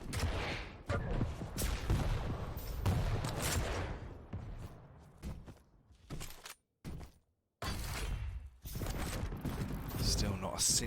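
Rocket launcher fire and explosions in a Quake Pro League duel, DaHanG against cha1n, come as repeated loud blasts with mechanical clatter, two brief silent gaps near the middle, and commentary running underneath.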